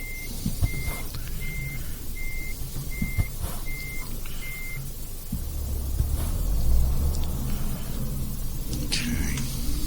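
Reversing beeps sound in an evenly spaced series over low truck engine rumble while a trailer is backed into a parking yard in Euro Truck Simulator 2, followed by heavier rumbling once the beeping stops.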